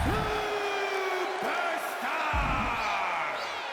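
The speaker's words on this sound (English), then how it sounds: "It's great to hear the crowd give this superstar the reception he deserves" A wrestling video game arena crowd cheers and whoops loudly for a superstar's entrance, with swelling shouts and a few sharp slams or thuds cutting through the roar.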